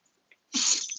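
A single sharp sneeze bursts out close to the microphone after near silence, loud and breathy, with a faint small sound just before it.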